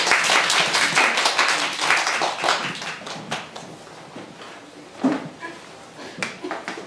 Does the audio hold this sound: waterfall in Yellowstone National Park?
no